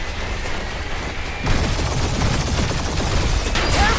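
Sustained rapid turret fire pours out during a spaceship dogfight in Guardians of the Galaxy, a loud, dense rattle that kicks in sharply partway through over steady engine roar, with no voices.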